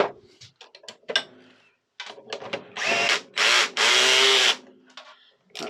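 A power drill whizzes bolts onto a mobility scooter being reassembled, several short bursts after light clinks of handling parts, with two long loud runs close by.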